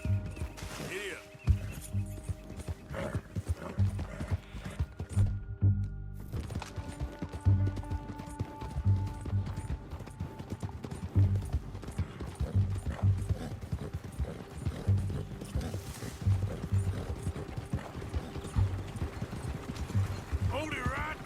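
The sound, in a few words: horse hooves galloping in Red Dead Redemption 2, video game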